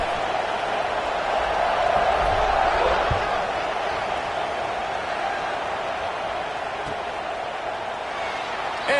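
A stadium crowd roars steadily before a football kickoff, a broad sustained cheer with a commentator talking over it.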